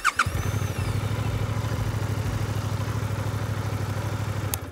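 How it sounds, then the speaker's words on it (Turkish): A Suzuki GSX-8S motorcycle started with a single press of its start assist, with a brief starter whir catching at once into a loud, even, throbbing idle that runs steadily close by. "Yani tuşa bir kere bastığınızda makine çalışıyor."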